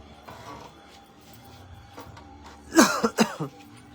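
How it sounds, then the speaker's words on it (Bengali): A person with a cold coughs in a short burst of two or three harsh coughs near the microphone, after a quiet stretch with faint mechanical clicks. "কাশি।"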